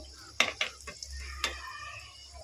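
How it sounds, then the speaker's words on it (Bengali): Egg chops fry in hot oil, a low steady sizzle under a few sharp metal scrapes and clinks of a utensil against the pan as the browned pieces are moved. "দেখুন লাল লাল করে ভাজা হয়ে গেছে"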